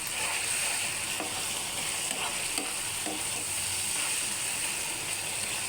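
Steady, close sizzling of chicken liver chops frying in hot oil, with occasional soft clicks of stirring. No voices.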